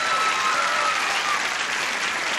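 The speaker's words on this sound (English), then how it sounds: "Applause, applause, applause." A studio audience applauds two contestants being introduced on a 1980 television game show, a bright, even roar of clapping from many hands that stays full and steady for the whole stretch.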